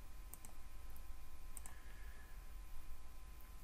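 Several faint, crisp computer mouse clicks on a save button, heard as small scattered taps over a low, steady background hum in a quiet room.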